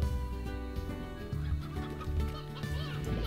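Chickens cluck in the Slime Rancher video game, steady and close over a dense, continuous music bed.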